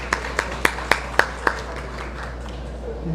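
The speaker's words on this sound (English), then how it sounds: "So give yourselves a round of applause." Six sharp, evenly spaced claps from an audience at a district town hall meeting ring out over about a second and a half, then fade into quiet room tone.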